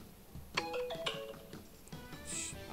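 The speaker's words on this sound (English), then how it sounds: "Of course, my phone needs to go off when I'm doing voiceover." A mobile phone rings nearby with a melodic electronic ringtone, a few chiming tonal notes in short phrases at modest volume over quiet room background.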